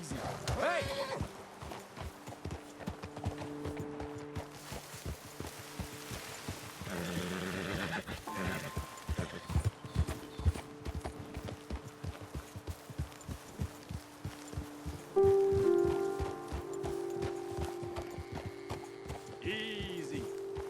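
Horses' hooves clip-clop on a trail in Red Dead Redemption 2, a steady rhythmic patter under a game soundtrack and occasional whinnies, with voices talking over it.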